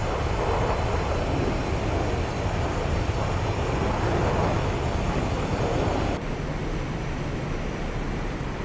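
A World War II-era aircraft engine in the IL-2 Great Battles flight sim drones steadily as the plane slows on approach with flaps extending, a broad continuous roar that drops to a slightly lower, quieter level partway through.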